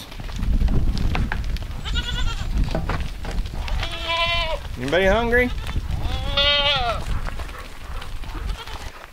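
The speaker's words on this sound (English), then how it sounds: "let's turn out the goats" Goats bleat repeatedly at a farm gate, several wavering calls in a row at close range, while a person talks to them between and over the calls.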